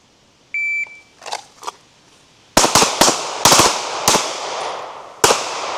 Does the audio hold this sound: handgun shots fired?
yes